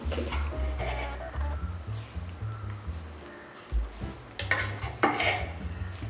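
Jalebi batter piped from a cone into hot oil fries with a soft, steady sizzle, punctuated by irregular clinks and scrapes of a pan and utensils, fairly faint and close.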